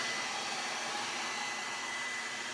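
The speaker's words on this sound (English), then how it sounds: "It honestly takes my hair about 7 minutes to blow dry." A hair dryer blows steadily as hair is blow-dried, a constant airy whoosh with a faint whine, continuous and moderately close, with no speech.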